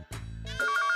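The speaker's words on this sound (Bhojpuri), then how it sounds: "लैंडलाइन पे फोन।" A landline telephone rings in a home, a loud electronic tone ending in rapid trilling bursts that fill the second.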